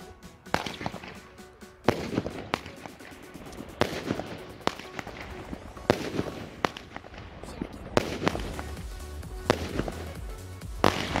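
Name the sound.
Dark Spirit Supreme 7 firework battery from Bilka exploding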